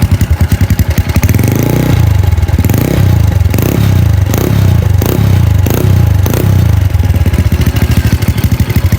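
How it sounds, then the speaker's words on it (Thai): A Honda Wave 125 motorcycle fitted with a loud Chan Speed aftermarket exhaust runs close up with a harsh, throbbing idle that climbs into a series of rhythmic, pulsing revs. "ท่อมันดังมากเลยนะครับ"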